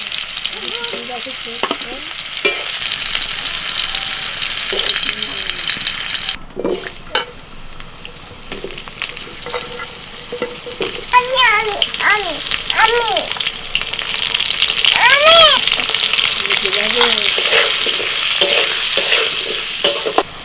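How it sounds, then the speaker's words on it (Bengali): Potatoes fry in hot oil in a pan, a steady loud sizzle broken by scraping stirs and clinks of the spatula, with a brief pause and a few faint voices. "আলুগুলো ভাজা হয়ে গেছে, তুলে নিচ্ছি।"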